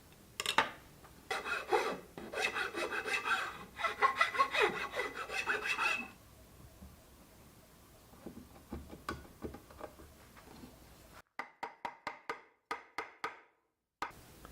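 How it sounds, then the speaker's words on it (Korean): A hand tool shaves and trims the wooden front leg of a Maloof-style rocking chair, with close, rhythmic rasping strokes in quick succession, then lighter scattered scrapes, and finally a series of short sharp strokes separated by silence. "그래서 이 양쪽을 깎아가면서 앞으로 쫙 붙게 그렇게 다듬어 갈게요"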